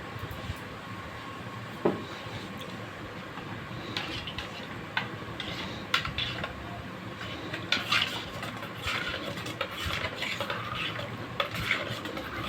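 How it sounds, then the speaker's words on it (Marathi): Spoon stirring a kokum solkadhi mixture with salt and kokum juice, giving faint, irregular scraping and light clinks against the vessel over a low steady background hum, with no talk. "आणि चांगलं मिश्रण ढवळून घेऊया"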